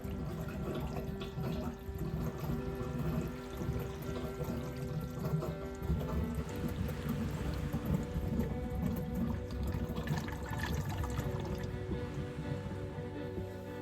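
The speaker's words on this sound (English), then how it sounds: "you need to wait until the filter fills up" A Fluval 307 aquarium canister filter filling with water gives a continuous, even rushing and gurgling flow that holds steady throughout, close and moderately loud with no talking.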